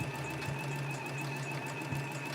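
A sewing machine runs steadily at a home sewing session, its continuous whirring hum and fast mechanical stitching close and loud from start to finish, with no talking.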